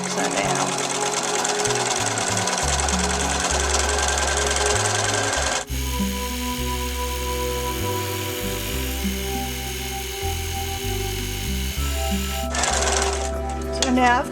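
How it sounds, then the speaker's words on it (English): A home sewing machine set to free-motion quilting stitches on fabric with a continuous rapid mechanical whir, pausing briefly and changing speed in places, loud and close with no talk over it. "my machine has a feed dog button I can punch so that it puts it into free motion"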